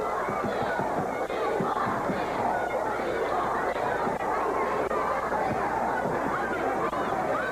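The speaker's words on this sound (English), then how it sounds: "The crowd beckoning for someone else to come from the back." A wrestling crowd at ringside in Memphis, with fans pressed around the ring from the bleachers, makes a steady, loud babble of many voices and shouts that carries on without a break.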